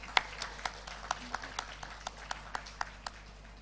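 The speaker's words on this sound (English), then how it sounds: "Please welcome our session chair with a huge round of applause." Scattered hand claps ring out in a steady rhythm, about a dozen distinct claps, fairly sparse and moderately loud, like a small audience applauding at an international health conference.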